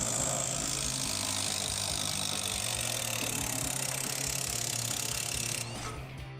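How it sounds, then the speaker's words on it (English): An 18 mm socket on a ratchet works the strut-to-spindle bolt loose on a 2011-2019 Dodge Challenger R/T, with a continuous, even run of quick ratchet clicks close by that gets quieter near the end. "We can grab our 18 millimeter socket and disconnect the bolt holding our strut to the spindle."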